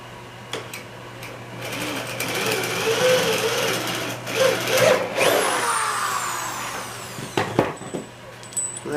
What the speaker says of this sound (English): Let's drill a hole and set this up.